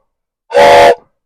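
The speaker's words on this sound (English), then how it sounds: "It is a train whistle." A toy train whistle gives one short, loud, steady blast lasting about half a second, standing alone in an otherwise silent setting.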